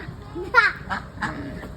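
Ducks at a farm quack a few times close by, mixed with the excited voices of young children talking nearby.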